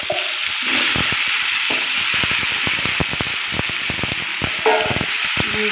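Potato and pumpkin pieces fry in a pan with a steady broadband sizzle, broken by repeated sharp scraping and clacking strokes of a spatula stirring them throughout.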